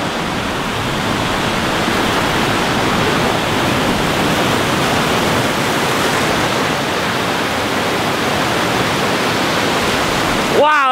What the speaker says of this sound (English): I see the waterfall, and it was well worth the detour, because this is pretty neat.